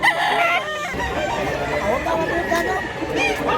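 A two-year-old fighting cock crows nearby in a loud, ragged call, and other fowl cluck around it while people talk in the background.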